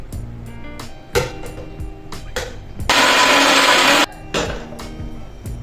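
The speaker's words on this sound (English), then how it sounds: "I'll be blending it together with the tomatoes" Kitchen blender whirs in one loud burst of about a second, blending pepper with tomatoes, set among scattered knocks and clatter.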